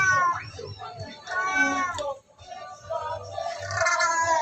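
A hungry house cat begs for food indoors with a run of insistent, drawn-out meows that come in close, repeated waves with only a brief pause between them.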